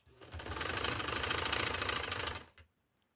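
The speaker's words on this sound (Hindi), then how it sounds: "और ये मैं सिलाई लगाती हूँ।" A sewing machine runs a straight line of stitches on a shirt's coat collar, a rapid steady whirring patter for about two seconds, then stops abruptly.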